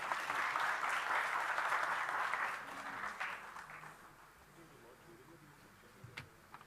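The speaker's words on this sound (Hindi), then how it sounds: "उनका तालियों से स्वागत कीजिए" Applause greets Major General G D Bakshi at a book release event, a broad wash of clapping for the first few seconds that fades to scattered claps and low murmuring by the end.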